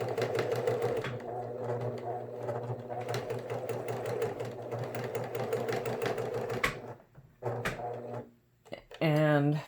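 A sewing machine stitches fabric in a steady, fast mechanical whir, then pauses and restarts in short runs, with a person talking over it.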